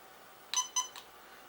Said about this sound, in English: so you'll hear it beep twice.